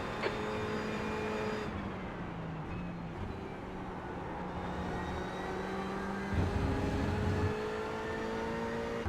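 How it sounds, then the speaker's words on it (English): LMP race car engine in the iRacing simulator, a steady droning whine with rising and falling tones that holds throughout, swelling briefly near the end as the car passes. "I think that was the LMP engine."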